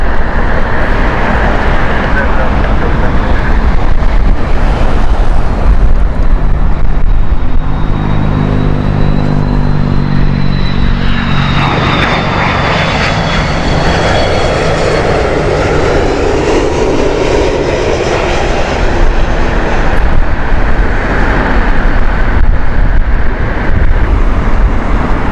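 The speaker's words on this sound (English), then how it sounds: "Air Algeria next with their Airbus A330" An Air Algeria Airbus A330-200 jet passes in strong wind, a loud, sustained engine roar that swells and shifts in tone midway, with gusty wind noise underneath the whole time.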